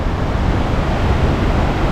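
A river rushes through a canyon near Tumalo Falls, a steady, dense broadband roar of flowing water that stays loud and unbroken throughout, with no voices.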